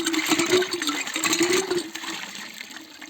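Water pumped out of a newly drilled shallow well pipe, still carrying sand, pouring and splashing continuously and close, with a steady low hum of the pump running underneath.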